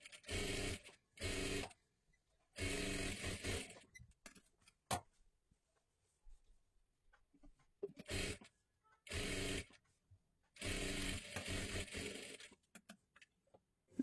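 A sewing machine stitches a katori blouse in short, close bursts of whirring, each a second or two long, separated by quiet pauses with faint handling sounds in between.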